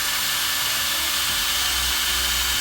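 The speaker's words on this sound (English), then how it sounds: "Alright, let's carefully drill this." A power drill bores a 7mm hole into a wooden bottle stopper during woodturning, a loud steady whir that shifts in pitch slightly as the bit cuts, continuous and close.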